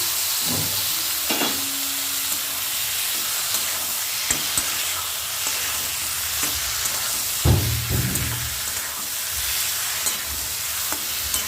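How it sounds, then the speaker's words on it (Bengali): Fried eggplant tipped into a pan of cooked tomato, onion and chili, a continuous close sizzle broken by scattered scraping and stirring knocks, one louder clatter near the middle, no talking. "তো আমার টমেটোটা, পেঁয়াজ, লঙ্কাটা হয়ে গেল, তো বেগুন ভাজাটা আমি ঢেলে দিলাম"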